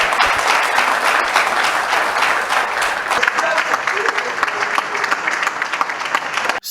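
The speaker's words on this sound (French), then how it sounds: "la deuxième gouverneure du Lualaba soit toujours entrecoupée par des applaudissements de l'assistance" Audience applause at a provincial governor's first press conference in Lualaba, steady, dense clapping from a crowd that fills the room, easing off midway while a voice speaks over it.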